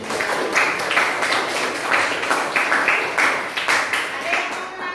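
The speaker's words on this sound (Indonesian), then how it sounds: "Aplaus dulu untuk kelompok 4" Classroom applause for a student group, a steady patter of many hands clapping that fills the whole stretch at moderate loudness, with a faint murmur of voices underneath.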